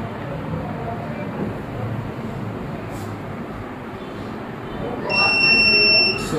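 A theft-alarm buzzer on a Raspberry Pi smart shopping trolley sounds near the end as a steady, shrill electronic tone over a busy, noisy room background.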